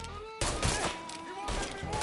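Gunfire in the video game Mafia 3, a sudden broadband burst of shots and a second volley close behind, loud and near, over tense in-game voices.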